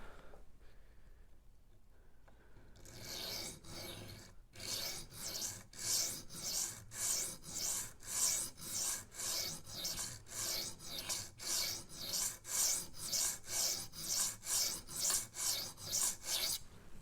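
A Rough Ryder Half Hawk knife blade is drawn across a sharpening stone with a 3D printed angle guide in repeated even rasping strokes, about twenty regular passes after a brief quiet start, close and fairly soft.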